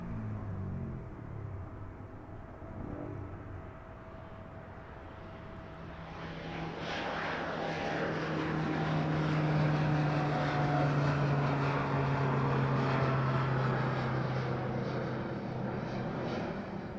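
A jet airliner departs from runway 27 at East Midlands Airport in the evening, its engine roar swelling from a distant rumble into a loud, sustained thrust with a droning tone, with no talk.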